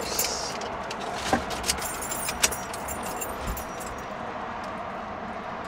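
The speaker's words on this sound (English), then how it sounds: "Now we have the keys" Car keys jangle in short, bright, faint bursts near a Toyota Highlander, with a low car hum steady underneath.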